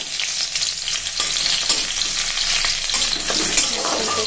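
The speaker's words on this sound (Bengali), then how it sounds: "এখন আমি শুকনো লঙ্কা ফোড়ন দেবো, তেলটা গরম হয়ে গেছে, আর এই রসুন ফোড়ন দিয়ে দেবো" Dried red chillies and garlic are tempered in hot oil, giving a loud, steady crackling sizzle with bursts of spitting and stirring throughout. No voices are heard.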